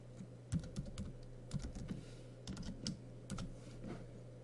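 Keystrokes on a computer keyboard while HTML form code is entered, a quiet run of uneven taps in short bursts over a steady low hum, with no talking.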